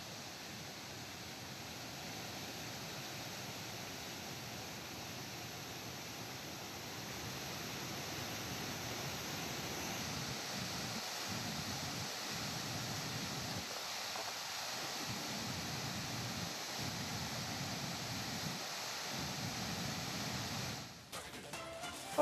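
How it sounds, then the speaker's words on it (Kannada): Mookana Mane waterfall near Sakleshpur, swollen after heavy rain, gives a steady, dense roar of rushing water that stays constant and unbroken throughout, with no voices. "ಜೂನ್ ಆರಂಭ ಆಗೋಕ್ಕೂ ಮುಂಚೆನೇ ಸಿಕ್ಕಾಪಟ್ಟೆ ಮಳೆ ಆಗಿರೋದರ ಒಂದು ಪರಿಣಾಮವಾಗಿ ಈ ರೀತಿಯಾಗಿ ಜಲಪಾತ ಭೋರ್ಗರಿತಾ ಇದೆ"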